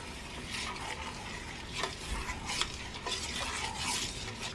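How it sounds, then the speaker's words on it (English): A spoon stirs leftover-vegetable cream soup with garlic powder and frozen scallions in a pot, producing scraping and clinking against the metal over a soft simmering sizzle, with a few louder knocks. "Let's stir it all together."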